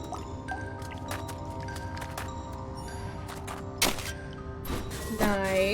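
Water is drawn from a well in the video game Wytchwood, with scattered dripping and sloshing liquid effects over a steady background hum and a brief splash-like burst near the end.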